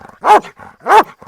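A dog in attack training lets out two loud, close, sharp barks about half a second apart, with quiet gaps around them.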